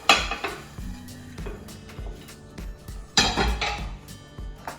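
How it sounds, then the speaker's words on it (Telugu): A serving plate is picked up and set down after cooking a masala omelette in a home kitchen, giving a few close ceramic clinks and knocks in two bursts, with no talking. "సర్వింగ్ ప్లేట్ తీసుకుందాం."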